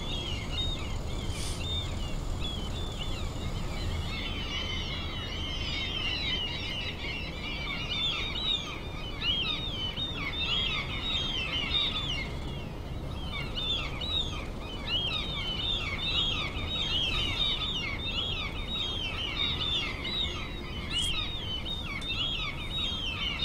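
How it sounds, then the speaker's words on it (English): Seagulls call repeatedly in Train Simulator 2016 on the West Highland Line Extension with a Class 37/4, their squawks overlapping steadily throughout over a continuous low rumble of the train. "those seagulls are kind of annoying, aren't they?"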